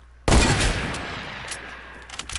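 Gunfire in a video game bursts in loudly after a moment of quiet, a dense fusillade of shots that rings on and tapers off, with a few fresh pops near the end.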